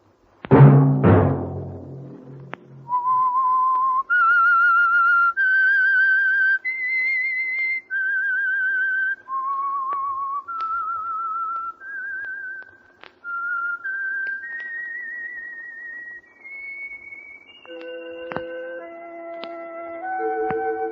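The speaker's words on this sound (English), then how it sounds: "Let that whistle be your signal for the Whistler" A lone whistler carries the eerie signature tune of The Whistler radio drama, a slow melody of sustained clear notes rising and falling, opening after a brief orchestral chord and ending with a few lower tones.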